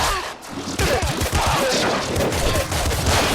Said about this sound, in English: I'm going to shoot fast.